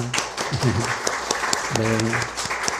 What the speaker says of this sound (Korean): 오늘 박수로 축복합시다